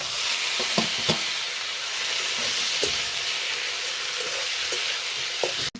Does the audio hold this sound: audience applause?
no